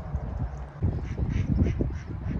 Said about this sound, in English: there's a duck, I hear a duck